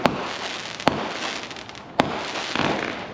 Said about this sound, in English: any excuse to light off some fireworks